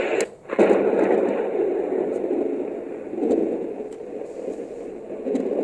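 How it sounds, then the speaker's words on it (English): A white noise sound machine plays a thunder track: a low, continuous rumbling roar with rolling swells, and a brief dip near the start. "Let's listen to the thunder."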